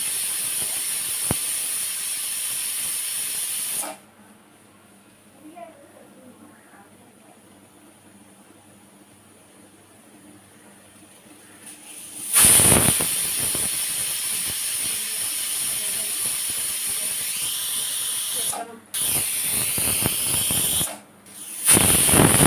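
A pressure cooker cooking dal releases steam in loud, sustained hissing bursts, cutting off into near silence for several seconds before the hiss resumes and briefly breaks again.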